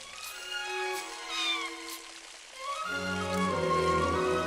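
Cats meow in the video game The Adventures of Elliot: The Millennium Tales, several drawn-out, wavering mews in quick succession, the later ones lower and layered together over soft ambient game sound.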